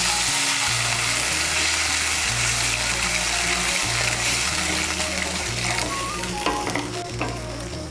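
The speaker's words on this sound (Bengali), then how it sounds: "এখন এর মধ্যে দিয়ে দেব জল।" Hot water hits a pan of sizzling potato curry, frying hiss and bubbling filling the scene with stirring clatter, loud and close throughout.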